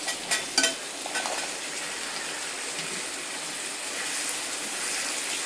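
Shallots, garlic and curry leaves sauté in a pan for a mackerel fish curry, a steady hiss of frying with a few sharper stirring scrapes near the start and no talking.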